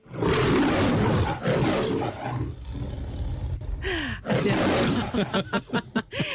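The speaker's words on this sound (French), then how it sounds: "ce rugissement de lion. C'est le générique de la métro Goldwyn Mayer, Franck." The MGM film studio intro lion roar: a loud, drawn-out roar followed by a quieter stretch, then another burst and a series of short, rough growls and grunts.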